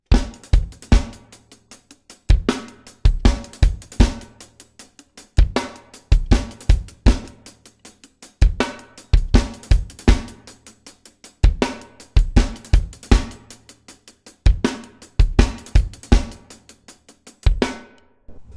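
A drum kit plays a steady rock beat, with a snare hit on count one and punchy kick and snare strokes repeating in a regular pattern, close and loud, with no talking.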